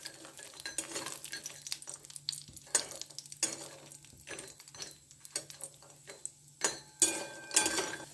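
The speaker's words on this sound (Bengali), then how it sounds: "লাল লাল করে আমি বড়িটা ভেজে তুলে নেব।" Bori lentil dumplings frying in a pan of oil, with a soft sizzle beneath repeated scraping and stirring clatter of a utensil against the pan, coming in uneven bursts close by.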